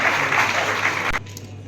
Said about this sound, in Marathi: जोरदार टाळ्या वाजवूया आपण